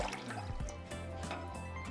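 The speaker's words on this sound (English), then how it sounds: "to that I'm going to add about 5 cups of water" Water poured into a pot set on medium-high heat to steam flan, a close, continuous splashing and gurgling stream with small drips, heard on its own without talk.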